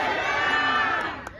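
Crowd at an Indonesian election protest rally outside the election commission, shouting together in a sustained loud roar that swells and holds, then begins to fade near the end.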